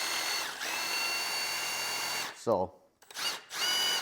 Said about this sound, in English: you can hook it to a drill here directly